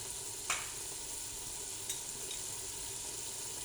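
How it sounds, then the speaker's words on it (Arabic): Tomato paste frying for lentil soup gives a soft, steady sizzle in a pan, faint and continuous, with two brief scraping stir sounds near the start and middle. "نخلط مليح هكذا ونخليها تتقلى، يعني نعطيها وقتها في التقليه"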